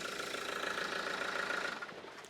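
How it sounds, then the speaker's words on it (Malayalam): A Mahindra XUV500 BS6 mHawk 155 engine idles with a steady, close hum that drops away near the end of the short stretch. "അപ്പോൾ ഇതാണ് ഈ ഒരു എഞ്ചിൻ്റെ ശബ്ദം"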